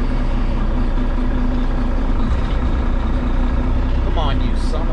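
A cabover truck engine runs with a steady, loud, low rumbling idle throughout, close by, with a brief faint squeak near the end and no talk over it.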